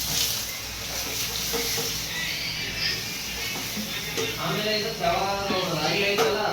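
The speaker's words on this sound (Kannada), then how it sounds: "ಇವಾಗ ಒಗ್ಗರಣೆ ಹಾಕಿದ್ರು ಅವ್ರು" Spices for a tempering sizzling in hot oil, a steady close hiss and crackle running throughout, with a voice speaking briefly over it toward the end.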